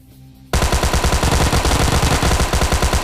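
Automatic gun fire in a video game: after half a second of near silence, a loud, rapid, steady burst of shots runs continuously to the end.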